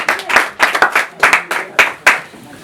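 A congregation at an engagement ceremony claps in bursts of several beats, fairly close and loud, then trails off near the end.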